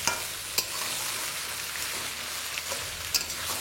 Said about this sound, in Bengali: এবার আরও 5 থেকে 7 মিনিট এই পেঁয়াজের সাথে আলুটাকে ভালো করে কুক করে নেবো